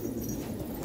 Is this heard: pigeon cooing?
yes